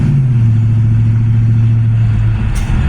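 A 1982 Kawasaki LTD motorcycle engine held at a steady, loud rumbling rev just after a downshift, close and continuous with no talking.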